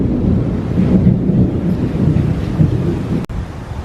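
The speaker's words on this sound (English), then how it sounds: "it's getting a thunderstorm now" A thunderstorm with heavy, continuous rumbling thunder rolling across the whole stretch, loud and close, with a steady wash of rain and wind noise and a brief sharp crack near the end.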